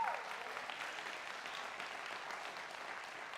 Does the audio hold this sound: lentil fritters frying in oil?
no